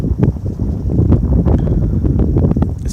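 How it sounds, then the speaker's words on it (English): Wind picks up outdoors in the Arizona desert, a steady loud rushing and buffeting against the microphone. "the wind's really picking up all of a sudden"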